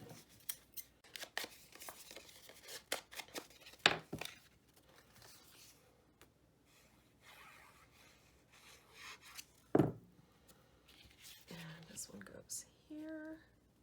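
Scissors snip repeatedly through paper, crisp close cuts in an uneven rhythm, with soft rustling and a couple of sharper clicks between.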